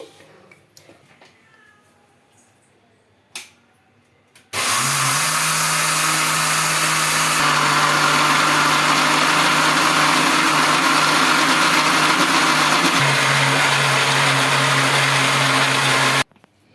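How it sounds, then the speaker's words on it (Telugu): A few soft knocks, then a mixer grinder starts abruptly and runs loud and steady for about twelve seconds with a constant whirring drone, grinding ragi batter with a little water, before cutting off. "ఇలా అన్నీ మిక్సీ జార్లో వేసుకున్నాక కొద్దిగా వాటర్ వేసుకున్నామండి స్మూత్గా గ్రైండ్ చేసుకోవాలి"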